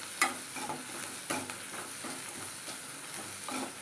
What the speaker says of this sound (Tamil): பச்சை மிளகாயும் சேர்த்து நல்லா வதக்கிக்கலாம்